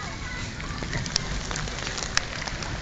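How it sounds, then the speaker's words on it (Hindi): Rain falling steadily as a broadband hiss with faint scattered drop ticks, heard outdoors by someone standing out in it with soaked clothes. "बारिश में खड़े हैं"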